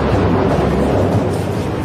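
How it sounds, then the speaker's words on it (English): Deep, rolling thunder rumbles loudly and continuously, with no voices, as Zeus hurls lightning down on the Titan army in a dramatized mythological battle. "Zeus sends a fury of lightning down upon his father's army"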